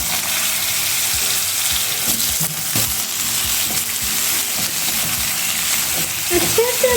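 Washed potatoes drop into hot oil with cumin seeds and a pinch of asafoetida, and a loud, steady sizzle of frying fills the scene, broken by scraping stirs and a few bursts of spattering.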